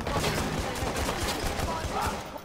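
Rapid gunfire from a Watch Dogs shootout, a dense run of overlapping shots that carries through the clip, loud and busy.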